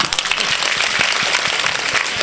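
Loud, dense applause from an audience at a public event where a health minister is speaking, sustained throughout with scattered individual claps audible within the crowd.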